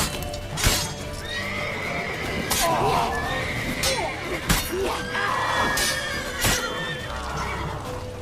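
Horse neighing in The Witcher 3: Wild Hunt during a tense chase, several whinnies and snorts over clattering hooves and game noise, fairly close and loud amid shouting voices.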